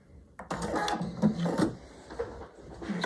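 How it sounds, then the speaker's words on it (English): Quilting sewing machine chain piecing fabric strips at a quarter-inch seam, a steady close mechanical whir of needle stitching running almost throughout with brief pauses and small handling clicks. "And I'm just sewing 1/4 inch all the time."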